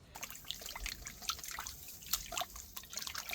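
Plant roots, cut back by about half after being root-bound in a pot, swished gently in water while repotting garden flowers; soft close trickling and dripping with small splashes, steady and continuous, no talk.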